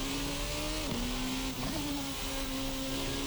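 A formula race car engine in Assetto Corsa drones loudly at high revs, dipping briefly as it shifts and then pulling hard again.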